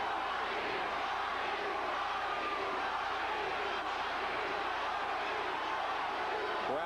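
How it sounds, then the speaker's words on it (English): Boxing arena crowd at the Iran Barkley vs Thomas Hearns light heavyweight title fight, a dense continuous roar of shouting and urging that holds steady throughout, with faint speech mixed in. "Crowd trying to urge on Tommy Hearns for one last moment here."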